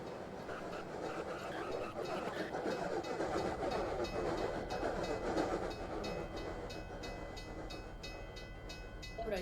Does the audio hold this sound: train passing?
yes